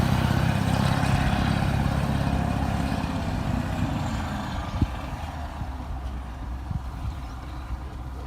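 A Soviet Kirovets K-700 tractor churns through snow, its heavy diesel engine rumbling loud and close at first, then gradually easing and fading slightly as it moves on, with a few faint knocks.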